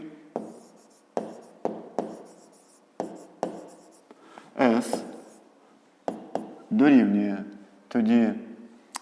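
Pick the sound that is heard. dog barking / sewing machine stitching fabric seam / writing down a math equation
writing down a math equation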